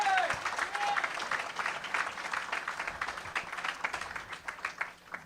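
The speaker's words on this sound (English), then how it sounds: "just another round of applause for Brent" Audience applause at a comedy show for Brent, a crowd clapping loudly at first and slowly thinning out, heard close with a voice briefly over it.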